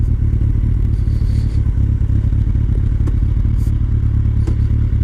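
A Kawasaki Concours 14 motorcycle on a ride, its engine a steady, loud low drone with road and wind noise throughout and faint clatter and ticks on top, with no talk.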